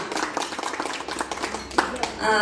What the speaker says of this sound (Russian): Все, аплодисменты дорогим гостям.